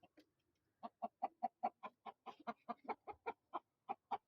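A newly bought rooster and hens cluck in a close, steady run of about eighteen evenly spaced calls, each short and loud, following a faint brief call at the start.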